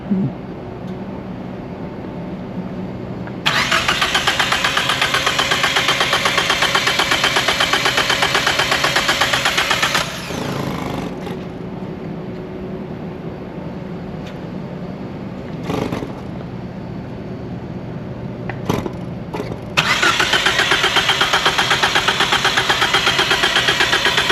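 A Deep Orange 3 car with a suspect fuel pump, unstarted for over ten years, cranks loudly in long sustained bursts with pauses between, its engine struggling but never catching.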